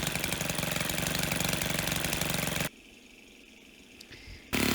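Stihl string trimmer engine running loud and steady, then abruptly dropping to a much quieter low idle after a carburetor adjustment turned counterclockwise, before surging back up at the very end.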